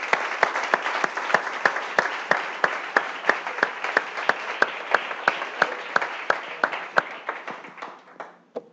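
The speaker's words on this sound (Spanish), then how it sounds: "Démosle un aplauso al Señor, hermano." Church congregation clapping together in a steady, rhythmic beat, roughly three claps per second, loud and close, tapering off toward the end.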